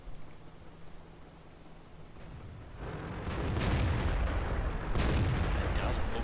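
Tank guns fire during a World of Tanks tournament match, a quiet rumbling backdrop giving way to heavy booming blasts and sustained roaring impacts, loud and broadband.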